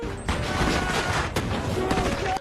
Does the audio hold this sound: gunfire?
yes